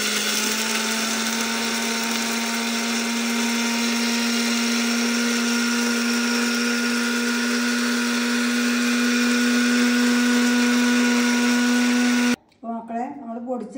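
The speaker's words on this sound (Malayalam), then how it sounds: "ഓക്കെ, ഇനി നമുക്കിത് പൊടിച്ചെടുക്കാം അല്ലേ." A mixer grinder whirs loudly and steadily for about twelve seconds as it grinds dried beetroot into powder, a close, constant high-pitched motor drone that stops abruptly, followed by a brief moment of speech.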